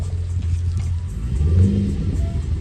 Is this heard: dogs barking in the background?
no